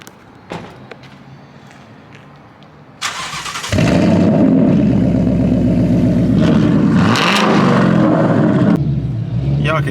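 A Ford Mustang GT, an S550 with a newly fitted wicker bill, cranks and fires up, then settles into a loud, deep rumble with revs rising and falling, up close. Voices talk in the background.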